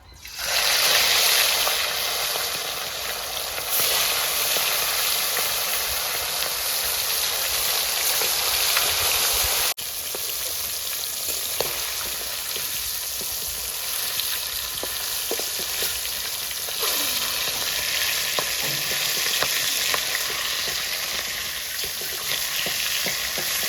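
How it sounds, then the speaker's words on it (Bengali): Pieces of large silver carp sizzle and crackle in hot mustard oil in a pan, a loud steady frying hiss that continues throughout with occasional pops and brief clinks. "আগে আমি মাছ কটা ভেজে নিচ্ছি"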